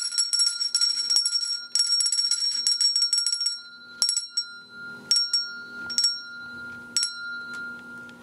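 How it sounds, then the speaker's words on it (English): A bicycle bell rings in rapid, trilling bursts, followed by single dings spaced apart, bright and close. "Hopefully you can hear my bell."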